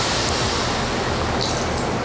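Whipping cream poured into a pan of browned butter on the stove, giving a loud, steady hissing sizzle that holds evenly throughout, close by.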